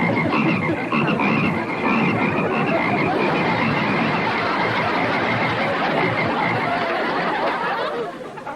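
Dense chorus of many frogs croaking continuously, loud and close, filling the scene without pause before tapering off at the end.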